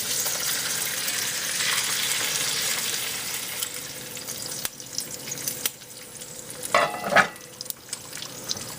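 Bacon sizzles in a pan under a bacon press with a steady, close crackling hiss. Toward the end come a few clanks and scrapes of utensils, with no one talking.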